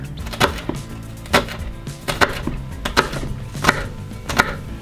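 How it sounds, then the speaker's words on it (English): A knife chops down through a shallot on a wooden cutting board, giving about six sharp, close knocks at an uneven pace. "And then I'm cutting down into the shallot."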